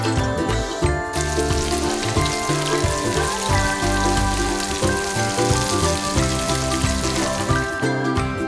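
Cooking oil sizzles and crackles steadily in a tiny miniature-kitchen pan, a dense hiss with a tuneful background melody playing throughout.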